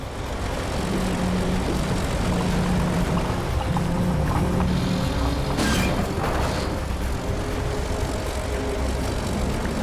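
A 140,000-pound-capacity heavy-duty winch pulls a 1.5-inch cable at a highway truck recovery, with a loud, continuous engine drone under throttle and a brief metallic bang near the middle.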